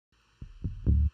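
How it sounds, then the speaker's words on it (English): Arpeggiated analog-style synth bass from a Tyrell preset named Analog Pitsy Bass, three quick thumping low notes building in loudness over about a second, alone. "They have this one preset called Analog Pitsy Bass"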